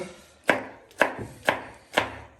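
Knife chopping tomato on a board, four sharp evenly spaced chops about half a second apart, close and clear with nothing else heard.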